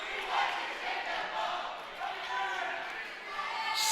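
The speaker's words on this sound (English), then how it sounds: "Spirited crowd over there for the Spartans." Spirited high school crowd at a girls' volleyball senior night, a dense wash of cheering and shouting from the stands that swells and holds throughout.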